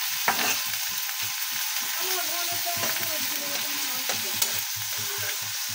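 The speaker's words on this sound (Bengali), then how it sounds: "ভালো করে খুন্তি দিয়ে নেড়ে ছেড়ে দেব এবং হালকা করে ভেজে নিই মরিচ পেঁয়াজগুলো" Chilies and onions fry in a pan with a steady sizzle while a spatula stirs them in repeated scraping strokes, with occasional light clicks against the metal.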